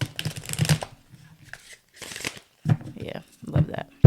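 Tarot cards shuffled on a table in bursts of riffling and soft slaps, close and fairly loud, with quiet gaps between runs.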